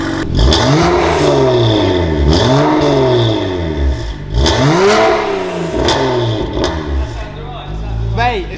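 A BMW 135i 1M replica with straight-piped exhaust revs hard several times in a row, loud rising and falling engine sweeps with crackling between pulls, close up.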